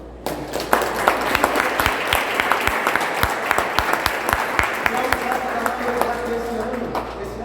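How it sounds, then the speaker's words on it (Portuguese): A seminar audience at an introductory Judaism course gives sustained, dense applause for a man named Shalom, a steady wash of many clapping hands with a voice briefly heard over it near the end. "Então eu gostaria de pedir uma salva de palmas para o Shalom."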